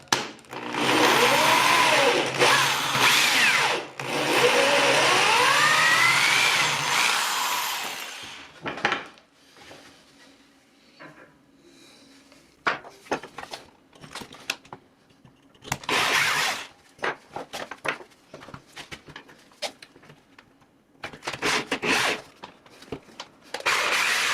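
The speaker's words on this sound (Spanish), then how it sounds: "Vamos a perforar, acá será un pre-hueco que vamos a agrandar luego." A drill bores a pilot hole through a piece of wood while making a wooden ring. A loud, continuous grinding whine runs for about eight seconds, followed by quieter scraping and several shorter bursts of drilling.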